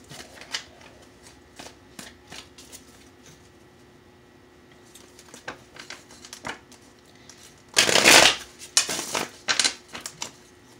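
Tarot cards riffled and shuffled by hand, a loud burst of dense crackling around the middle followed by a few shorter flicks, with soft card taps and handling noises scattered before it.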